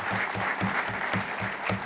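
A dense round of audience applause fills a hall at Adrian College's State of the College 2026 event, steady and close, with a faint low rhythmic thumping underneath.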